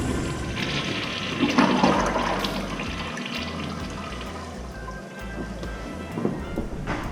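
A Sloan flushometer toilet flushes with a loud, close rush of water that surges and then settles into a steady draining roar, lasting several seconds with no talk over it.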